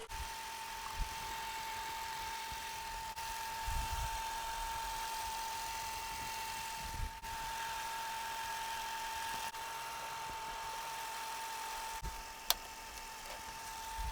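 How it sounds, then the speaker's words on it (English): A Toyota Camry engine idling after a fan shroud replacement, a steady low hum with a constant whine over it and occasional faint knocks and clicks, heard close with no talking. "We've been running the engine for about 15 minutes."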